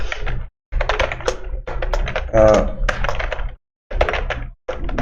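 Someone types a Python print statement on a computer keyboard, short bursts of clicking keystrokes separated by brief pauses, close and clear, with a person speaking intermittently.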